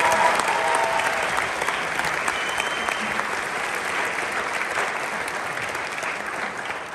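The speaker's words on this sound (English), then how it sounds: "Can we all give them a big round of applause?" An audience at a high school freshman choir winter concert applauds, a dense, steady wash of clapping that holds for several seconds and tapers slightly at the end.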